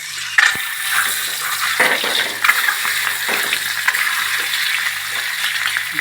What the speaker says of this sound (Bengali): ডিমগুলো ভেজে নেবো ভালো করে